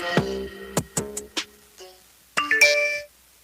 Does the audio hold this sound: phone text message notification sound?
yes